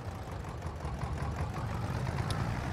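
A tractor engine idles in Farming Simulator 22, a steady low rumble that holds at a moderate level without revving.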